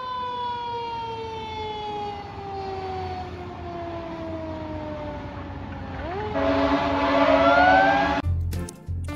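A blue toy police ladder truck's wailing siren sweeps down slowly in pitch, then a louder, harsher siren tone takes over before cutting off abruptly with a clatter.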